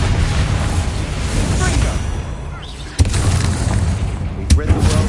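Bombarda spell explosion in the video game Hogwarts Legacy: a loud, dense rumbling blast with a sharp boom and a second smaller burst, set against heavy game ambience.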